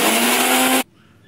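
A mixer grinder whirring loudly and evenly as it grinds coconut, ginger, salt and turmeric into a coarse masala, then cutting off abruptly after under a second, leaving near quiet.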